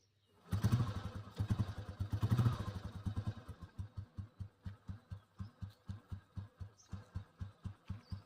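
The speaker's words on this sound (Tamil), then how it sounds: "வாங்க வண்டி ஸ்டார்ட் பண்ணி பார்க்கலாம் வாங்க" An old petrol Royal Enfield Bullet motorcycle cranks and fires up with a loud burst, then settles into its slow, even thump-thump idle, close by and alone.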